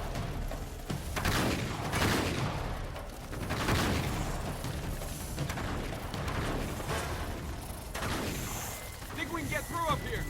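Gunfire and combat noise from the Uncharted 3 video game, a dense, continuous rumble of shots and impacts under steady voices, with a few brief tonal effects near the end.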